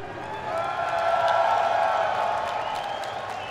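A crowd at an esports fighting game tournament applauds and cheers in a broad, sustained swell that rises and then slowly fades, loud and continuous.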